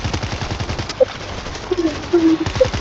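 Machine gun fire in the zombie shooter World War Z, loud rapid bursts of rattling shots repeating steadily through the clip, with brief voices and game tones in the mix.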